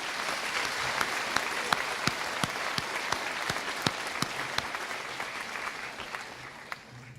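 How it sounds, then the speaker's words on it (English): Steady applause fills a high school graduation ceremony hall in Rochester, a dense sustained clapping from a large audience with a few sharper individual claps standing out, lasting throughout and tapering slightly at the end. "Let's give them a round of applause."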